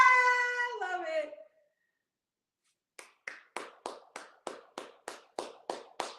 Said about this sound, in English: I give that a round of applause.